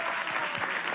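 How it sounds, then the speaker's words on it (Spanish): A crowd at a women's sector meeting of Venezuela's presidential commission for the constituent assembly breaks into applause, a brief, thick, continuous patter of many hands. "un aplauso para todas estas mujeres futuras constituyentistas"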